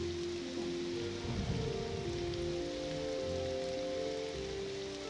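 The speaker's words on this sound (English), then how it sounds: "Oh, it's raining." Rain falling in the video game Morrowind: a steady, even patter on surfaces, with a brief swell of heavier drops early on, continuing under a low background drone without any voices.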